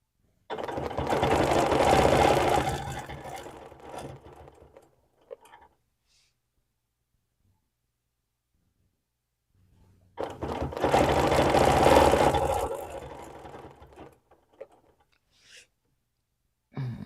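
Home sewing machine ruler quilting circles row by row, two long loud runs of steady stitching separated by several seconds of near silence, with small handling noises after each run.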